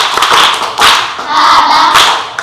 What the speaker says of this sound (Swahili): Tumpigeni makofi